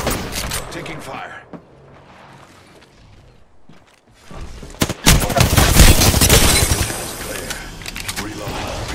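Apex Legends gunfire starts with sporadic shots, then erupts into a loud, dense automatic burst with shattering impacts, and a voice speaks beneath the shooting.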